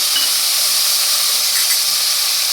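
Green chillies and a tomato hitting hot oil in a pan, producing a loud, dense, continuous hissing sizzle close by.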